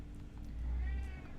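A hungry cat meows for food, one drawn-out, close meow that rises and falls over a steady low background hum.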